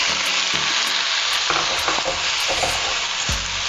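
Chopped tomatoes sizzle in a hot frying pan while a utensil scrapes and stirs through them in repeated strokes, with a dull knock near the end.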